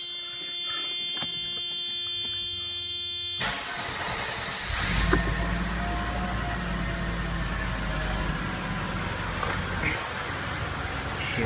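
Mercedes M103 engine idling steadily in a garage with the door open after a harmonic balancer replacement, a continuous low hum with a constant tone that follows a loud alarm-like chime at the start.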